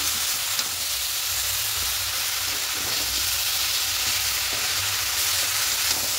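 Spinach and prawns fried and stirred together in a pan, a steady broad sizzle with faint scraping under it, constant and close with no talking.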